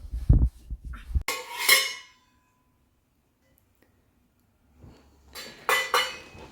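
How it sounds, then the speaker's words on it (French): A child bangs toy pots and pans, sharp metallic clatters and clinks in two close bursts separated by a quiet gap. "Tu joues avec tes casseroles"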